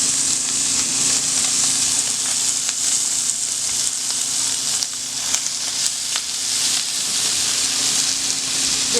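Pork frying in its own rendered fat with onions in a pan, making a steady, loud, continuous sizzle with crackling throughout and no voices.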